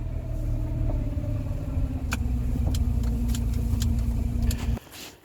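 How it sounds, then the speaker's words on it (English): Rover 45 Impression S3 with a CVT gearbox running, a steady low drone with a persistent whining tone from a suspected primary bearing fault, scattered clicks, then cutting off abruptly near the end. "we may have a bearing problem in this car"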